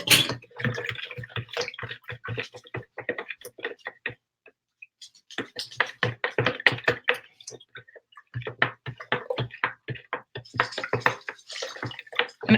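An apple cider vinegar mixture is stirred in a container until it dissolves, giving rapid, irregular clinks and taps. They come in steady bursts with a short pause midway, close and moderately loud.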